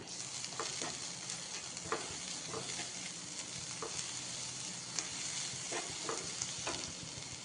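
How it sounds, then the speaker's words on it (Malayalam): Grated coconut and sugar roast in a pan for elanji filling, a soft continuous sizzle with regular scraping strokes of a spoon, fairly quiet and close, with no talking. "തേങ്ങ ഒന്ന് മൊരിഞ്ഞ് വരും, ഇളക്കി കൊടുക്കാം നന്നായി."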